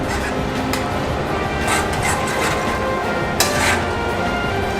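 A spoon stirs brown stew chicken with tomato in a pot, scraping and clinking against the metal with soft sizzling underneath, close and continuous with a few sharper knocks.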